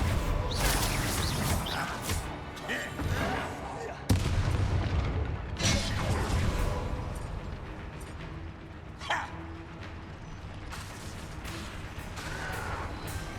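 Confringo and Bombarda spell blasts from the Hogwarts Legacy video game: repeated heavy booms and sharp bursts break through a dense, continuous layer of game sound effects and music, with several strong hits standing out.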